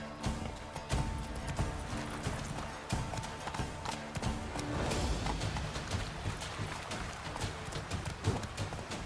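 Hooves of Roach, Geralt's horse in the video game Witcher 3, clip-clopping in a steady rhythm over a busy, loud game soundscape, with brief snorts and a short voice in the mix.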